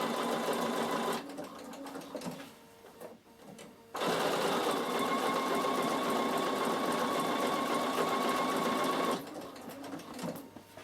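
A Bernina sewing machine stitches soft decorative thread around a curve on a fabric storage box, running steadily and close, pausing briefly twice before carrying on at an even pace.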